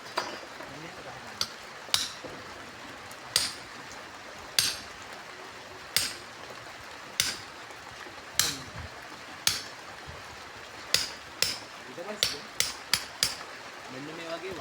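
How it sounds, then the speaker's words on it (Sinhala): A hammer strikes a cutting chisel set on a centre mark, giving sharp metallic taps spaced a second or so apart, then quickening near the end, close over a faint background. "මේ කපන කටුව ඒ සෙන්ටරේ මැදින් තියලා මෙන්න ගහනවා"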